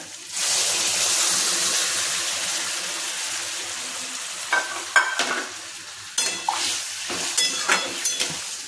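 Boiled chana dal hits fried potatoes in a pan with a loud hiss of steam, then a spatula stirs and scrapes the mixture in uneven bursts over a softer sizzle, no talk.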